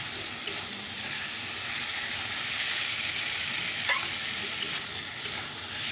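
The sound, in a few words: spice masala with turmeric and dried chilli frying in a pan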